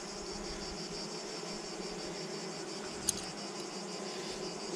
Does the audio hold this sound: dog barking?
no